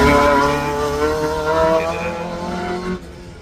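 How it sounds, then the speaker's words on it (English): A Mark II Astra race car climbs a hillclimb course, its engine screaming through rising and falling revs at close range before the sound drops away abruptly near the end. "Andrew Strani on his way up in the Mark II Astra."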